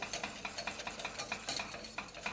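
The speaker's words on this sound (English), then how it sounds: "I'm going to stir all this in," A utensil stirs hot vegan coconut cream caramel in a pan, giving soft, faint repeated scraping and gentle sizzling strokes in a quiet kitchen, with no voices.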